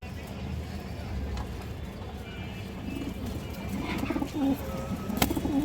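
Pigeons, including female red-tailed birds, coo in soft, repeated low calls, with a bird's wing or movement sounds and faint background activity; a person speaks nearby.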